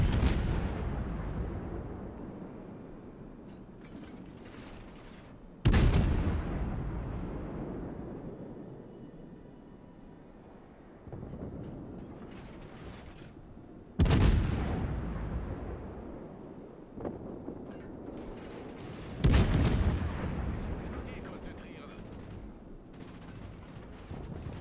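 Heavy naval guns of the warship Hindenburg firing in World of Warships, four loud, booming salvos spaced several seconds apart, each with a sharp blast and a long rumbling decay under continuous battle noise.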